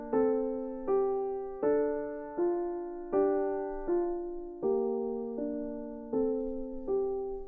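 A sequenced synthesizer melody made of evenly spaced notes, about one each second, each decaying smoothly. It sounds darker and softer after a filter cut, with a reverb tail and no voices.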